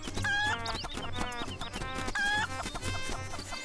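A chicken in Link's Awakening clucking loudly and close, in repeated squawking bursts with a couple of higher shrill cries, over light game music.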